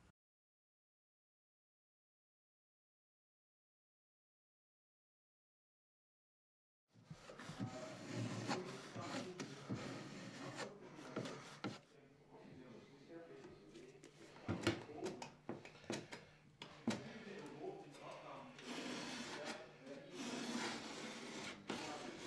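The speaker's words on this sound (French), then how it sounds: "appliquer d'abord encore une couche d'enduit sur les bords du MDF avec un couteau à enduire" Filler being spread with a putty knife along the edges of an MDF board, heard as close, repeated scraping and rubbing strokes with knocks and pauses, following several seconds of silence.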